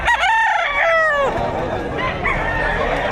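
A rooster crows loud and close at the Padre Garcia livestock auction market in Batangas, one long call followed by a second crow about a second later, over a busy crowd murmur.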